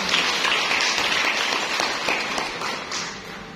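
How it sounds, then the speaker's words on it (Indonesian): A church congregation applauding, dense steady clapping from many hands filling the room, loud at first and gently tapering toward the end with no speech over it. "Mari kita beri tepuk tangan yang terbaik."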